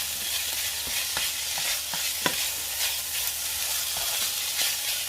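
Rice stir-fried over high heat with Thai fermented pork (naem) gives a dense, even sizzle, punctuated by regular scraping and tapping strokes of a spatula pressing the rice against the pan, close and fairly loud without voices.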